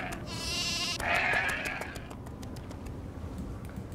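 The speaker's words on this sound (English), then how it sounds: "These things, these sheep, are driving me a little bit batty" Sheep in the video game Nancy Drew: The Haunting of Castle Malloy bleat in two quick wavering calls, followed by soft rhythmic clicking footsteps, close and clear.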